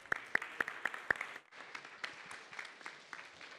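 Scattered applause for a student speaker at a college lecture series, opening with a few loud close claps from one person, then thinner uneven clapping from a small audience.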